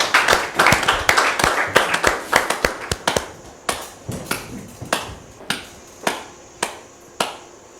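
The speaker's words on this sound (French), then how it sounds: "Recevons maintenant Dame Regina Bierou sous vos applaudissements, s'il vous plaît." Sparse, uneven hand clapping from a small audience welcoming a guest, starting as a brisk patter and thinning to a few loud, separate claps spaced about half a second apart.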